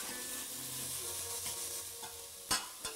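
Lentils and vegetables are stirred in a pot over a low, steady sizzle of cooking, followed near the end by two sharp knocks of a utensil against the pot; quiet and close, no talk.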